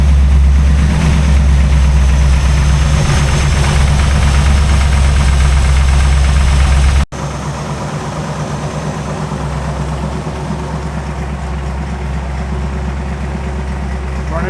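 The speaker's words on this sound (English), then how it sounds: "It's idling in neutral at like 900." A truck engine fitted with a Holley 4160 carburetor idles in neutral at about 900 rpm, a steady, loud low rumble with a slightly uneven beat and a brief cut partway through.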